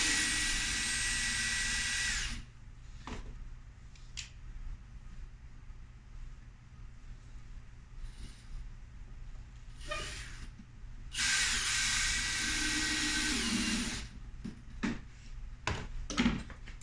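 Power drill unscrewing a window frame to reposition it, a high whirring buzz in two long bursts with short stops and clicks between, close and fairly loud, no talk.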